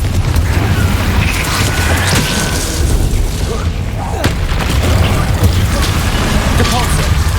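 Fire spell blasts and booming magical impacts from Hogwarts Legacy combat rumble continuously, layered with crackling bursts and game effects in a dense, loud wash.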